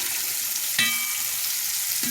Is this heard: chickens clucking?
no